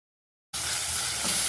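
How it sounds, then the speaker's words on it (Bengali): Grated onion dropped into hot oil with bay leaf, whole cumin and dried chili, bursting into a loud, steady, close sizzle after half a second of silence and holding without a break. "এবার তেজপাতা, গোটা জিরে, শুকনো লঙ্কা দিয়ে দিলাম, গ্রেট করে রাখা পেঁয়াজ দিয়ে দিলাম।"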